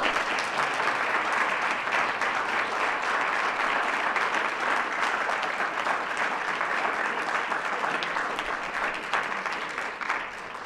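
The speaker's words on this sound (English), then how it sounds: "Please give them a round of applause." Steady audience applause thanks the candidates at the close of a League of Women Voters state candidate debate, a dense even patter that holds throughout and eases slightly near the end.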